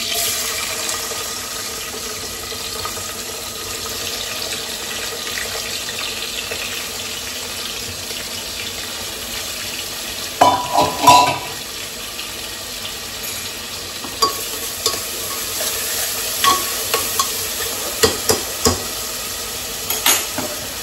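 Onion dropped into hot oil in a home kitchen pan, giving a steady broad sizzle with a burst of louder crackling partway through and scattered stirring clatters afterwards; no one speaks.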